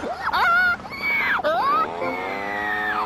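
A human voice imitates a monkey call: loud, rising and falling squeals and wails, close up, in a few sweeping bursts.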